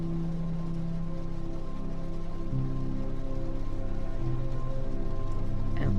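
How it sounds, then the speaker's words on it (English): Steady rain pours down outside, a continuous even hiss of drops on surfaces with a low rumbling undertone, constant and moderately loud throughout. "Outside, the rain continues to pour down"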